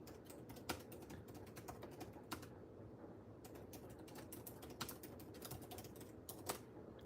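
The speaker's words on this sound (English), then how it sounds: "I wasn't even typing fast there" Fingers tap steadily across a computer keyboard, a dense run of soft clicks with a few sharper keystrokes standing out, close and continuous with no one speaking.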